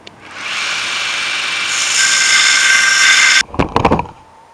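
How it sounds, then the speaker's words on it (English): A belt sander grinding a Micarta knife handle: a loud, close, sustained abrasive whir that builds in intensity, then cuts off, followed by a few sharp scraping and knocking sounds. "I'm gonna try the belt sander first."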